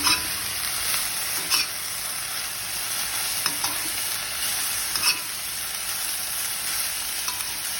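Pad kaprao, a Thai holy basil stir-fry, sizzles steadily in a pan with repeated sharp scrapes of stirring throughout, close and loud with no talking.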